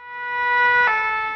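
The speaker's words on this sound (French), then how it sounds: "Cette sirène retentit bel et bien à partir de cet ambulance simulateur" A loud, near siren wails from a training ambulance simulator, a rich tonal blast swelling in volume over a short burst with no voices.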